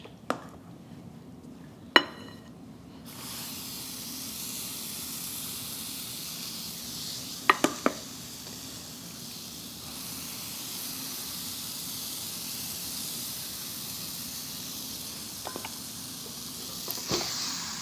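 Waffle batter cooks in a deep-pocketed Belgian waffle cooker, giving a steady soft hiss of steam throughout with a few sharp clicks and clanks from handling the cooker.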